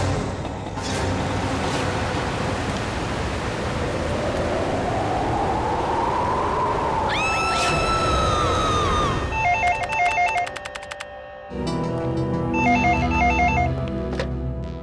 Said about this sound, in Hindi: किसी महेश का फोन था